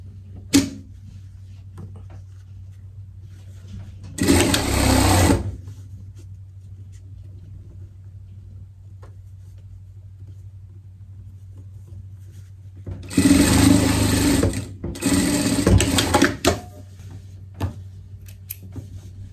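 A sewing machine hemming trousers, two loud runs of rapid stitching, the second longer and broken into bursts, separated by quiet stretches with a low steady hum.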